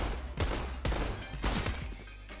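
USP and Glock pistols fire in a video game, with four or five sharp, loud shots in quick succession, each ringing out briefly over a low rumbling background.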